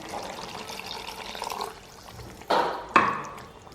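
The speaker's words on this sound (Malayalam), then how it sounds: "ആ തലപ്പാലം കൂടെ ഒഴിച്ചങ്ങ് വാങ്ങാം." Thick first-press coconut milk goes into a simmering cashew nut curry: a soft splashy wash, then two short, sharper pours close together.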